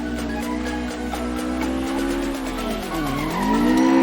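An AE86 drifts through a tail slide on a mountain pass, its tires squealing loudly and continuously while the engine note wavers and dips mid-slide, heard up close with no voices.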